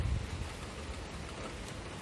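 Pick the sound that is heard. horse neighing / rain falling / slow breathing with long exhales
rain falling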